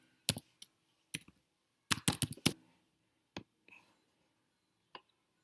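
Sparse bursts of keystrokes on a computer keyboard, a few single clicks and one quick run of rapid taps, crisp and close in an otherwise quiet room.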